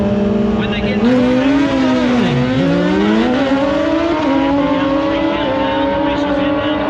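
A Lamborghini roars down a drag strip at a racing event, its loud engine note dipping briefly as gears change and then climbing steadily in pitch, heard close and continuous.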